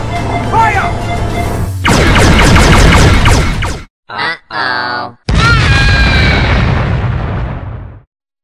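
A Republic fighter tank fires its cannon at a droid AAT in a Star Wars battle, with loud booming blasts and rumbling engine noise broken by short gaps, mixed with voices and effects.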